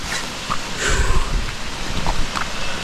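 Rain falling in a forest on a trekking trail in Coorg, a soft steady patter of drops with occasional nearby splashes and rustles, close and fairly loud throughout.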